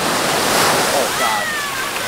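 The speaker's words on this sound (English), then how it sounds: "since I'm in Hawaii and I'm right next to the Pacific, I'm gonna touch the water" Pacific Ocean surf washing onto a beach in Hawaii, a steady broadband wash of breaking waves throughout with faint wind, while a person talks over it.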